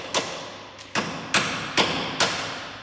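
A hammer tapping a bolt into the suspension of a Mustang GT350, five sharp metallic knocks at a steady pace about every four-tenths of a second. Each rings briefly at close range with no talking.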